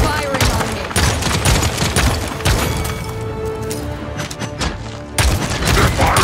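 Enemy gunfire in the team shooter game Paladins, dense rapid shots and impacts crackling loudly and continuously, with a brief lull midway before another burst, under game voice lines.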